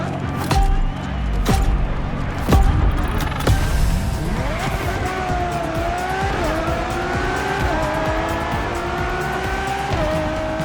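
A Ferrari Enzo racing in The Crew Motorfest, its engine revving loud and close, with sharp gear-shift blips early on, then a rising, steady high-rev whine through the upshifts, with no talk over it.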